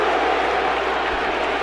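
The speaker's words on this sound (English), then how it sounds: "Sense of urgency with the crowd" A stadium crowd at a college football game, the SEC Championship between LSU and Tennessee, roaring in a dense, steady wash of cheering and noise for a short stretch.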